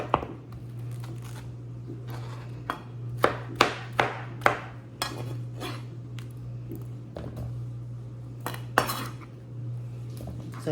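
A knife cuts up a fresh pineapple on a cutting board for a fruit tray, giving a series of sharp, close chopping strikes and blade scrapes, clustered in bursts with pauses, over a steady low hum.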